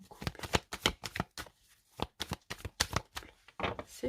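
A deck of tarot cards is cut and shuffled by hand in a rapid series of crisp, close riffling bursts separated by short pauses.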